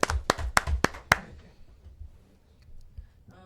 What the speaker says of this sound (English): Do we have like a digital round of applause?